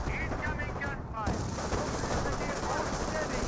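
Gunfire in the World War II strategy game Company of Heroes: continuous crackling small-arms and machine-gun bursts layered over a dense battle rumble, steady and loud.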